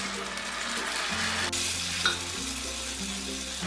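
Ginger garlic paste sizzling loudly and steadily in a hot pan for a chicken bread filling, with continuous frying hiss while it is stirred close by.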